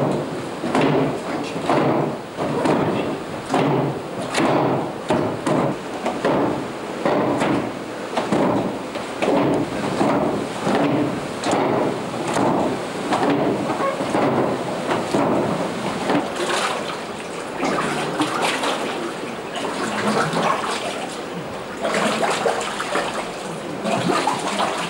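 Paper mill machine churning rags in a vat of water, about 3 kg of cloth to 50 litres, in a rhythmic sloshing, splashing cycle that repeats steadily and loudly throughout.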